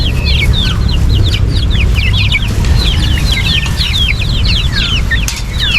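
A flock of Rhode Island Red chickens clucks and chatters continuously and close by, with many overlapping short calls and occasional wing flaps against a steady background rumble.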